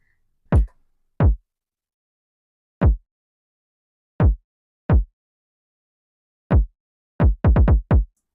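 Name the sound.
kick drum sample played in FL Studio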